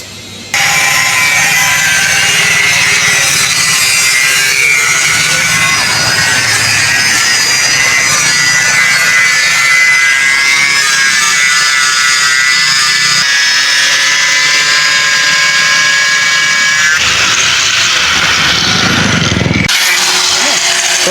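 A power saw cuts steel on an old tricycle sidecar being shortened, a loud continuous grinding whine with bright ringing tones, steady for most of the stretch and briefly pausing near the end.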